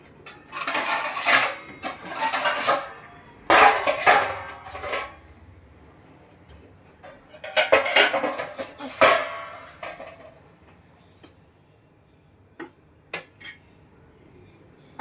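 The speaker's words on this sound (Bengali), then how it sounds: "ভাতটা বেড়ে নি।" Rice being served at home with utensils, dishes and cutlery clattering in busy clustered bursts, then a few sharp isolated clinks toward the end, with no talk.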